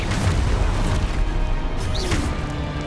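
Spell explosions in Hogwarts Legacy, a dense, loud booming crash with heavy low rumble and debris-like clatter, followed by a brief swishing whoosh, with no talking.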